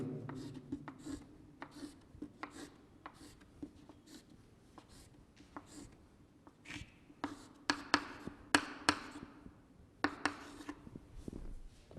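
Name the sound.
writing on a board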